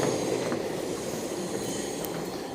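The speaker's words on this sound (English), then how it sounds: "Some more trains passing by." Subway trains in the East River tunnel under New York, a loud continuous rumble of train cars and rails echoing close by, with faint squeals of wheels.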